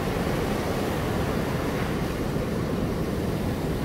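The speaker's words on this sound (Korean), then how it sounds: "자, 백사장 파도 구경해 보세요." Sea waves break on the sandy beach at Songjeong by Jukdo Park during high tide, making a continuous broad roar of surf with steady wind noise throughout and no speech.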